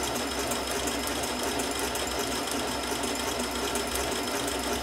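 A sewing machine fitted with a fringe foot stitches fringe in one steady, continuous mechanical whir. It is close and even throughout, with no voices.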